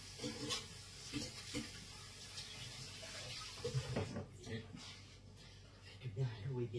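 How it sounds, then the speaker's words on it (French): Cold tap water runs over hands being washed at a kitchen sink, a steady close splashing with rustles throughout, while someone speaks over it. "Je vais laver ma main."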